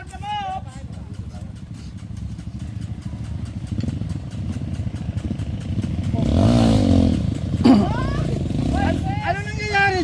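A trail motorcycle's engine runs steadily throughout, its loudness swelling as it revs partway through, with people talking over it and another rider's engine rumbling nearby.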